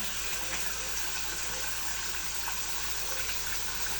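Continuous rush of running tap water, steady and fairly close, with no voices.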